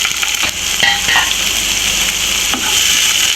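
Oil sizzles and crackles steadily as two chopped green chillies and onion fry for a mushroom pepper fry, a loud, continuous hiss with a few sharper pops and stirring clinks.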